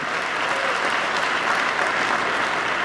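A large audience at the Global Climate Action Summit in San Francisco bursts into dense, sustained applause, a steady, loud wall of many hands clapping at once.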